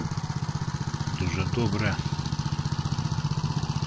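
Tractor engine chugging steadily under load while harrowing a freshly ploughed field, a continuous throbbing drone throughout with someone speaking briefly over it.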